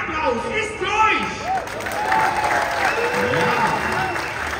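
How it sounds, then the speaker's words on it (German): A crowd at a Movie Park show breaks into loud, continuous applause, with scattered cheers and voices rising over the dense clapping. "Und dieser Stufen-3-Applaus ist für euch!"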